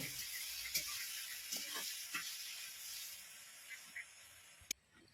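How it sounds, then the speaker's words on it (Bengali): Small chopped onions frying in hot oil for a giant freshwater prawn malai curry, a soft steady sizzle and hiss with occasional scrapes and clicks as they are stirred, faint and close. "পেঁয়াজগুলো দিয়ে দিলাম খুব সুন্দর করে ভেজে নেব"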